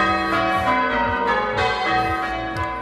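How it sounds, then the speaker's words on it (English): A full peal of church bells rings at a Somerset church, many overlapping bells tumbling in rapid changes, loud, dense and continuous. "a full peal of bells at this church in Somerset for the first time in 100 years"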